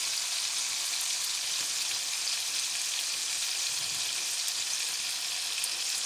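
Potatoes frying in melted butter in a pan give a steady, even sizzle with a constant hiss and no pauses, close and moderately loud.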